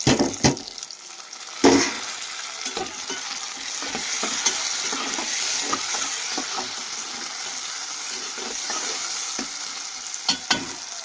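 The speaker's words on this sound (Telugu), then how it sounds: "మొత్తం అయితే బాగా ఫ్రై అవుతా ఉన్నాయి కదండి." Tomatoes fry in a pan with a steady sizzle, while occasional sharp clicks and scrapes from stirring break through the constant frying hiss.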